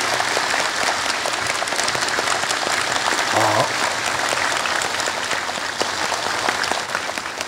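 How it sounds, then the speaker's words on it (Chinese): An audience at a Fo Guang Shan gathering in southern Taiwan bursts into sustained applause, dense steady clapping from a large crowd lasting throughout, with a brief voice audible midway. "Let's please put your hands together."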